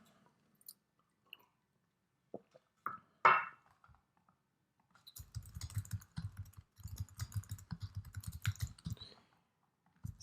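Computer keyboard typing while writing code, starting with a few isolated clicks and then settling into a close, steady run of soft keystrokes lasting several seconds.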